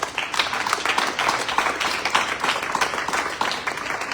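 A church congregation applauds during a worship service, a dense, steady, fairly loud wash of many hands clapping throughout, with no talk over it.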